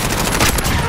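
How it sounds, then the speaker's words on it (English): A shotgun firing in a video game, a loud, dense blast filling the short moment up close. "With the shotgun!"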